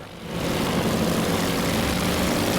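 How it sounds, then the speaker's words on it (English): Piston aircraft engines in the naval combat game Task Force Admiral roar as a dense, steady low rumble that swells in at the start and then holds loud and unbroken. "otherwise you're just hearing the roar of the engines here"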